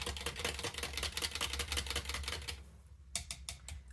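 A whisk clatters rapidly against a bowl while yeast is stirred into warm water, a fast regular ticking that stops briefly and then resumes with a few separate taps, close and fairly quiet.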